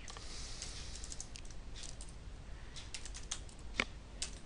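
HTML code being typed on a computer keyboard, a quick irregular run of close, faint key clicks with a few sharper taps near the end, heard with no talking.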